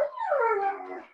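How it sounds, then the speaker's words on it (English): A big dog whimpers in a single drawn-out, wavering whine that slides downward in pitch, fairly close and alone for about a second. "you got a big old dog"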